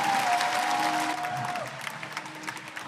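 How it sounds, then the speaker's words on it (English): Audience applause at the Rubik's cube WCA World Championship 2023, a steady dense wash of clapping that holds strongly through the clip, with faint crowd noise and a brief tone underneath. "Round of applause for Ruhang."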